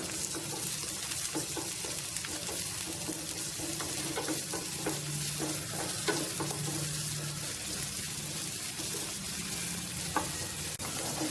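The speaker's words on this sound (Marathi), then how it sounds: "तेल हुन जाल की तातूंत भितर कांदो जरासो तांबडो जात पर्यंत परतून घेवया." Onion frying in coconut oil in a pan for Konkani pomfret green masala sukka: a continuous soft sizzle broken by repeated scraping clicks of a stirring spoon, close and fairly quiet, with no voices.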